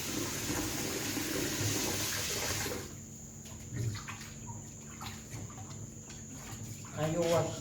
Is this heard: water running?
yes